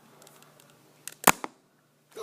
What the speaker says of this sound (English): I shot the sticky dart onto the camera